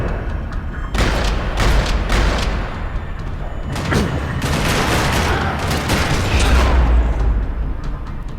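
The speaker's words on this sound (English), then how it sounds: "Another parking lot rattling with gunfire." Bursts of rapid gunfire crackle loudly and repeatedly across several seconds in a parking lot in Max Payne 3, with heavy booms and echoing shots filling the space.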